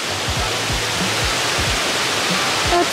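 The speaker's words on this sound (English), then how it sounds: "A cute little waterfall." A small waterfall on a hiking trail near Byron Bay produces a steady, loud rush of broadband water noise, with a few faint low thumps beneath it.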